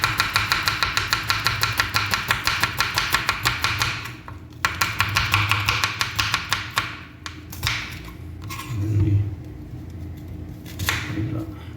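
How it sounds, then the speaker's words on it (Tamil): A knife rapidly and thinly slices onions on a board for a mutton dum biryani, with steady, closely spaced chopping taps for about four seconds, then looser, intermittent cuts with short pauses. "நல்லா மெலிசாக கட் பண்ணிக்கணும் நண்பா"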